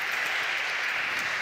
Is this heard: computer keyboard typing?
no